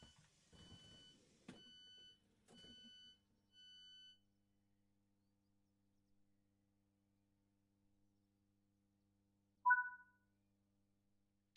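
Warning beeps sound as the passenger doors of a Class 465 train open in Train Sim World 4. A run of four clean, evenly spaced tones is followed by quiet, then a single louder chime near the end.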